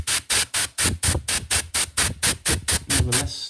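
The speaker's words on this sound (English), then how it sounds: "So let me just spray that again." Compressed air sprays in a rapid series of about a dozen short, even hissing bursts to blow dust off a Nintendo Game Boy Color, loud and close, ending with a softer trailing hiss.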